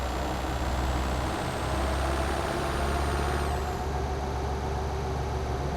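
Steady diesel drone of a Ford Transit van engine in American Truck Simulator, a constant low rumble with a thin high whine that rises slightly and then drops away, heard alone without talk.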